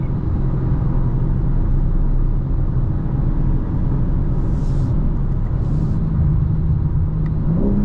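A 2025 BMW M4 Competition xDrive on a night drive through Atlanta, heard from the cabin as a loud, continuous engine rumble with a deep exhaust burble that swells slightly toward the end, no talking.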